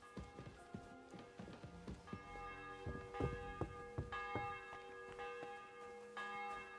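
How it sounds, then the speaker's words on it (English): Church bell tolling in the video game Kingdom Come Deliverance 2, several ringing metallic strikes with lingering tones, mixed with footsteps and faint game ambience. "The 11th toll of the bell."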